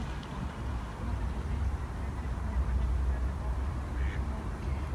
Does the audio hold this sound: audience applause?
no